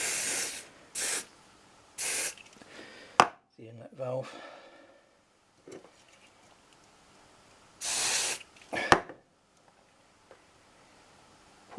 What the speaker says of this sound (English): spray a bit of silicone all around